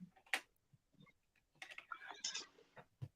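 Someone types on a computer keyboard with irregular, quiet clicks and short bursts of keystrokes, heard close up in a quiet room.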